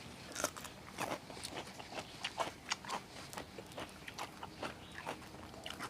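Close, wet crunching and chewing of raw squid and fresh seafood, a rapid irregular run of bites and squelches carried on alone with no talk.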